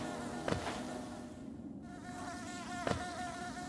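Bees in the hive area of the video game Hollow Knight give a steady, close insect drone, with two short sharp accents rising over the continuous buzz.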